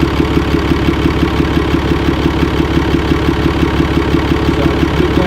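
A Cummins diesel truck engine with an aFe cold air intake idles loud and close, heard at the filter, a steady low rumble with a fast regular chugging pulse and a rushing air-intake hiss, no voices.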